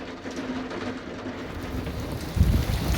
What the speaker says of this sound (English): Still thundering.